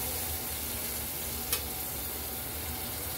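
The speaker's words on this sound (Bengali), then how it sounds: "এগুলোকে একটু ভাজা ভাজা করে নিচ্ছি" Vegetables fry in hot oil for a home-cooked Malabar spinach and shrimp dish, giving a steady, dense sizzle that runs unbroken throughout with one brief brighter hiss near the middle.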